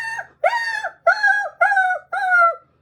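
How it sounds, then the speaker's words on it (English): A dog howls in a series of five drawn-out, mournful calls, each rising and falling in pitch with brief pauses between them, close and clear with no talk. "a sad, slow howl cut through the quiet of the morning"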